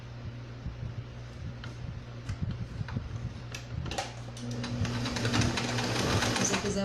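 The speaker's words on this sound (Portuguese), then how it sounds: "vou passar uma costura em toda a volta da cintura" A sewing machine runs steadily while stitching a seam around the waistband of a handmade doll, its motor humming with a rapid mechanical chatter that grows louder and busier toward the end, close up with no voice.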